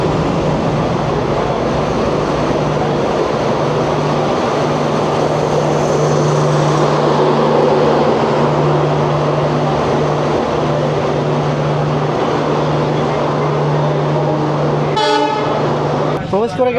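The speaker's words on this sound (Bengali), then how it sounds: "সময় বলছে ঘড়ি কাটায় 6:47 আর প্রবেশ করছে হাওড়া থেকে অমৃতসর মেল" Howrah–Amritsar Mail pulling into Howrah station, a long steady horn blast over rumbling wheels, then a sharp clanking burst near the end, with voices in the background.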